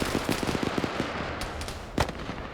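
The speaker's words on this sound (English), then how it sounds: "Detonated right there and just blew this guy away." Explosion and gunfire in a Falklands War combat video game: a rapid run of sharp cracking shots followed by a loud detonation burst near the end, dense and close with a noisy background.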